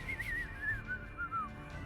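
A human voice imitates a blue jay's whistle with a series of short, wavering, high whistled notes, quiet and close, repeated several times in a slightly irregular rhythm.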